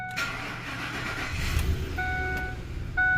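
A 2001-or-later Ford with a 4.6L engine that misfires cranks steadily for a few seconds, then the engine catches and settles into a rough idle, loud and close.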